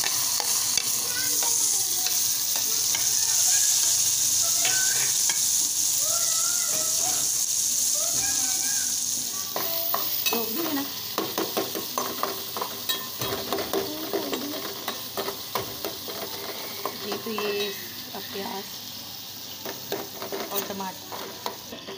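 Onions and tomatoes frying in a pan give a steady close sizzle for the first half, then busier stirring scrapes and clatters as tomatoes are mixed in, with continuous hiss underneath.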